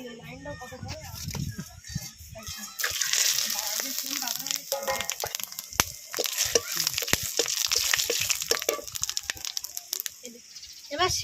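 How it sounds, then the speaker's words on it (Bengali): Loud crackling sizzle as bay leaves, garam masala, cumin and dried red chillies hit hot oil, with sharp pops and spatters throughout and a voice talking at the start. "তেলের মধ্যে তেজপাতা গরম মশলা জিরা আর শুকনো লঙ্কা ফোড়ন দিয়ে দেবো"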